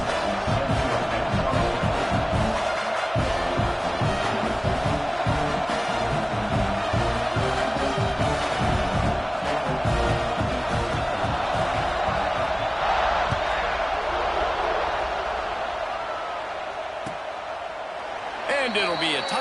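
A stadium crowd at a Nebraska versus Georgia college football game roars continuously, loud and sustained, with a commentator talking over it before the noise eases toward the end.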